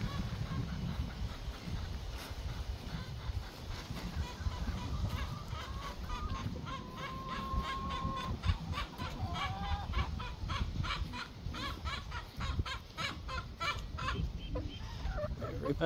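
Polish hens cluck and make honk-like calls in a busy flock, with repeated chattering bursts over a low background rumble.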